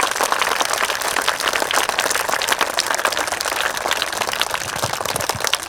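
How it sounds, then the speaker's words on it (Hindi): A crowd claps loudly and steadily throughout at the opening of a school sports day, a dense and continuous wash of applause with no talking over it. "जोरदार ताली हो जाए।"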